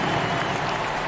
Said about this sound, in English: let's give a big round of applause to your Lakers Youth Dance Team